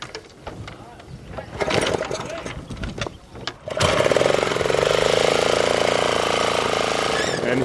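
A small engine on a bamboo train platform, belt-driven to its wheels, is cranked and sputters irregularly before catching, then settles into a loud, steady close-up drone.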